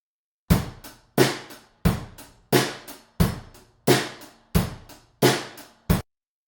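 A drum kit captured through a single room microphone: nine evenly spaced loud hits, each ringing out with a roomy decay before the next, ending in a short clipped final hit.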